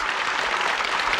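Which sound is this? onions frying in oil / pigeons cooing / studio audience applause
studio audience applause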